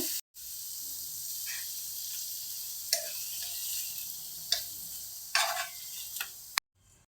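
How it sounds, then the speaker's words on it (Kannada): Paneer frying in oil in a pan gives a steady hiss of sizzling, broken by a few sharper crackles and spatters, close and alone with no talking. "ಒಂದು ಐದು ನಿಮಿಷ ಫ್ರೈ ಆಗಿದೆ ಇವಾಗ ಪನ್ನೀರನ್ನ ಎತ್ತಿಟ್ಕೊಂಡು"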